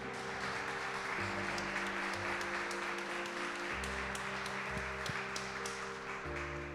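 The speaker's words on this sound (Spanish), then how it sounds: "Quiero pedirles un fuerte aplauso para la doctora." An audience applauds a doctor after a talk on person-centred planning, a faint, even patter of clapping set against steady low tones underneath.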